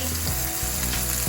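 Dough-stuffed beef burger pieces sizzle steadily in hot oil in a pan, a loud, close, continuous crackle with no talking.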